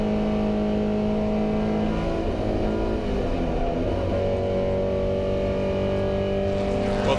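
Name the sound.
historic racing cars including Porsche 356 at Goodwood Revival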